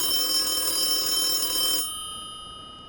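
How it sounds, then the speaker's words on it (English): A telephone rings with a bright electronic trill, one short burst lasting under two seconds before cutting off abruptly, fairly loud and alone with a faint tone lingering afterward. "when my phone rang."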